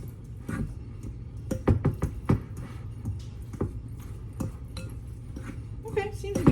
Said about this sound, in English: So let's go ahead and stir this up.